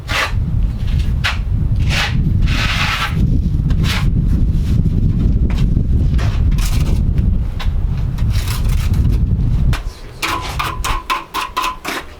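A notched trowel with 6 mm teeth spreads mortar in steady repeated scraping strokes, close and fairly loud throughout, ending in quieter, broken scrapes near the end.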